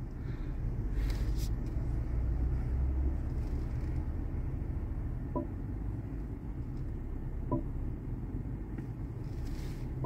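BMW 730i engine running, a smooth low steady rumble from inside the car with faint background noise and a couple of soft clicks.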